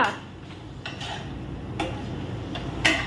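Spatula scraping and clinking in a pot of chicken curry, with intermittent sharp taps against the metal over a steady background hiss, moderately close.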